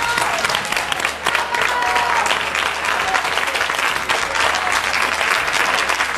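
A studio audience on a Spanish regional TV afternoon show breaks into loud, sustained applause for a young singer, with crowd noise and a voice talking faintly underneath.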